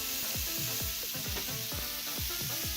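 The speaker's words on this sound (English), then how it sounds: "Listen to that sizzle." Pork chops seasoned with salt, pepper and garlic searing on a Blackstone griddle: a loud, dense, continuous hiss of sizzling fat, close up, with a repeating low pulsing pattern underneath and no talking.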